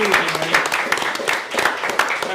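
Audience applause fills a talk-show interview set: a dense, steady patter of many hands clapping close by, continuous for a couple of seconds with a faint low hum underneath.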